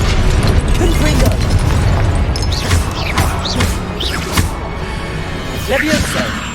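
A Confringo fire spell in the game Hogwarts Legacy, loud blasts and crackling bursts with whooshing magical effects and rumbling booms, under a voice speaking in the game.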